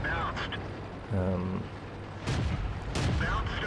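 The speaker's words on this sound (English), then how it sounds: "Just got hit by an artillery." An artillery shell strikes a tank in World of Tanks, on the Sacred Valley map with a British Excelsior heavy, in two loud booming impacts late in the clip, over steady engine rumble and someone talking.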